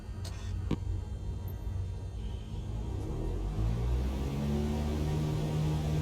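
A Cessna light aircraft engine drones steadily during the takeoff roll, a loud, close and continuous rumble whose pitch rises gradually as power builds, with no talk over it.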